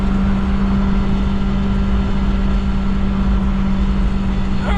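Subaru Sambar kei van engine while driving downhill, a steady, loud droning hum with a constant low tone and road rumble, unchanging throughout with no speech.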